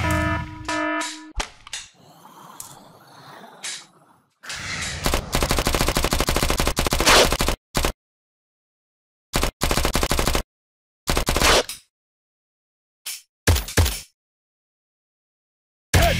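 Rapid automatic gunfire in the mobile video game Zombie Attack Last Fortress, loud dense bursts that stop and start abruptly, with gaps of silence between volleys.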